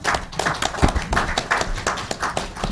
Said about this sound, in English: The applause from Fred was because I stopped on time